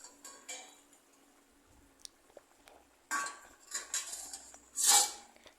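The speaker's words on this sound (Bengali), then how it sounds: "10 মিনিট পরে আমি ঢাকনাটা তুলে নিচ্ছি।" A metal lid lifted off a cooking pot of ridge gourd simmering on a gas stove, giving a few close clinks and scrapes followed by a brief rush of steam and a final bright clatter.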